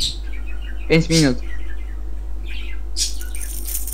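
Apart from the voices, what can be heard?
pet parrot squawking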